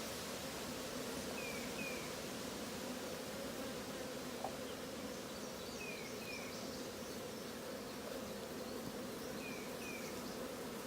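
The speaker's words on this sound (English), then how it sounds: "Boy, there are a lot of bees in there." A dense, steady hum of many honey bees fills an open hive, a close, continuous drone with faint chirps drifting above it and no voices.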